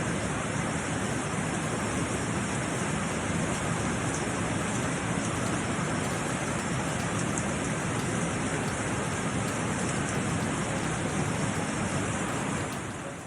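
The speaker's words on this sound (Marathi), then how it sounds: "जव्हार मोखाडा परिसरात धो-धो पाऊस कोसळतोय" Heavy monsoon rain pours down across the Jawhar Mokhada area in a dense, unbroken hiss that stays loud and steady throughout, with no voices.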